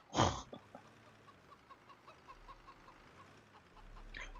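A sharp burst opens, then soft, repeated clucks of a hen sound in a quiet farming-game backdrop from Farming Simulator 2015, ending with a brief louder noise.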